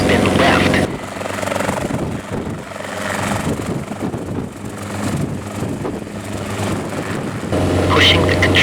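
Loud, continuous model helicopter rotor drone with a rhythmic chop in a video game, steady throughout, while a voice speaks over it.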